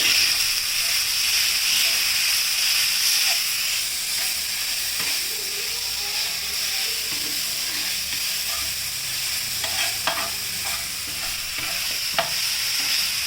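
Brinjal slices being stirred into hot oil in a pan, with a steady frying hiss and sizzle under intermittent scraping and clicking from the spoon, close and continuous for the whole stretch.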